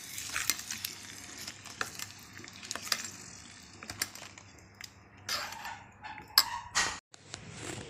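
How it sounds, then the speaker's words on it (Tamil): Garlic kara chutney being stirred in a pan, with soft scraping and a light sizzle that continue steadily and grow louder with a few sharper clatters near the end, close by and without speech. "பார்க்குறதுக்கு லைட்டாக அப்படி கிண்டி விட்டுங்க."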